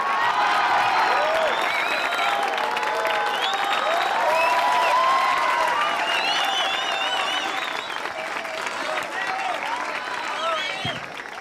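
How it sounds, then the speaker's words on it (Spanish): A crowd gives loud, sustained applause with cheers and whoops as a new vallenato singer from a small village is welcomed, steady clapping throughout with voices shouting within it. "Vamos a recibirlo con un fuerte aplauso."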